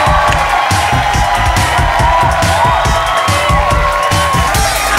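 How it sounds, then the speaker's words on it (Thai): A studio audience on a Thai TV variety show claps and cheers loudly to welcome actors from the series Bangoen Rak, with shouts and whoops over continuous upbeat music throughout. "ขอเสียงปรบมือต้อนรับ"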